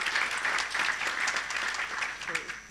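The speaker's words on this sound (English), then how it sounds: "Clap your hands like this if you have participated in a crowdfunding campaign." A conference audience claps hands in response to a poll about crowdfunding, a fuller, steady round of clapping that holds evenly through the moment with a voice faintly present underneath.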